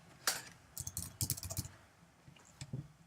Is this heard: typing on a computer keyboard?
yes